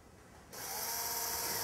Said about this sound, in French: à l'aide d'un fouet électrique, on va la monter